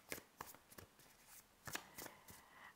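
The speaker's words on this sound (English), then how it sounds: "give that a bit of a shuffle and let's see what we get" Tarot deck being shuffled by hand, a series of soft riffling card flutters and taps at an uneven rhythm, close but quiet, with no talking.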